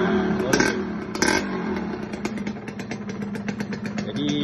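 A Kawasaki Ninja 150 KIPS motorcycle is started close by: a couple of cranking clatters, then the two-stroke engine catches and settles into a rattly, uneven idle with small blips of throttle.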